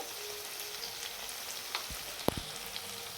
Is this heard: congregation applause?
no